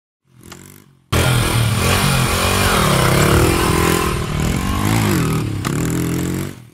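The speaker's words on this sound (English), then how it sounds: "Motorbike." A motorbike engine revs loudly and steadily close by, its pitch rising and falling over several seconds after a brief softer start, with no voices.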